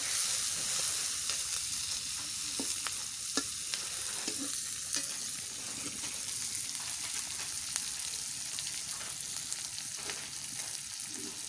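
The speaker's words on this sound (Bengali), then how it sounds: "পেঁয়াজ আর কাঁচা লঙ্কাটাকে একটু ভালোভাবে ভেজে তারপর দেব ওই কেটে রাখা ধুয়ে রাখা সবজিগুলো" Onion and green chilli frying in a pan for a vegetable rice dish, a soft steady sizzle with scattered light clicks and scrapes of stirring, fairly quiet and uninterrupted by any voice.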